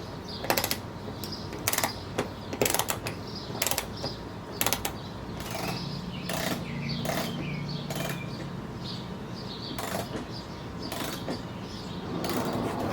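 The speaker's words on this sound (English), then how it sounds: "Tighten the 10mm bolt." Ratcheting wrench tightening a 10mm bolt on a 10th-generation Honda Civic during A/C condenser work, giving bursts of quick metallic clicks in several spaced runs over a steady background hum.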